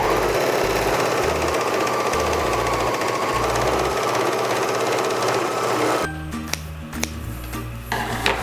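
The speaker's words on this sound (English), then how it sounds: "now I'm just gonna serge along the other edge" A serger sewing machine stitches along a fabric edge for a kid's buff-style mask. A fast, continuous mechanical buzz runs close and loud for about six seconds, then gives way to sparser clicks and thread-handling noises.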